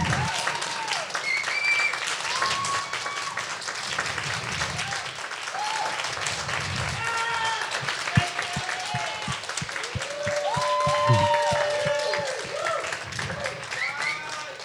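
A large audience at an evening program of a Trek cycling event applauds steadily, sustained dense clapping with scattered cheers and whistles rising near the end, while a voice speaks faintly over the crowd.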